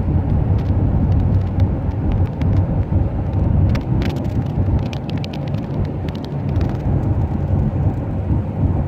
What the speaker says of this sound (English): we're gonna be driving on the highway for quite some time